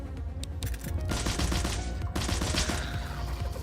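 Rapid SMG gunfire in a video game, dense bursts of automatic shots rattling close and loud, continuing almost without pause across the whole stretch.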